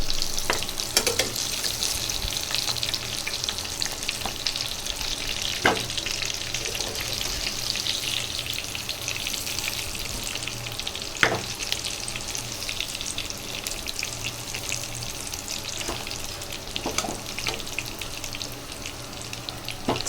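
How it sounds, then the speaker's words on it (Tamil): Chicken 65 pieces deep fry in a pan of oil, a dense, even bubbling crackle that runs steadily throughout, with occasional faint clicks of a ladle and no voices. "சிக்கன் எல்லாம் நல்லா வறு வறுத்து வந்துடுச்சு எல்லாத்தையும் எடுத்துடலாம்"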